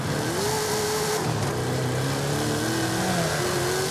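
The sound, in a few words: modified transit van engine revving in Forza Horizon 5 video game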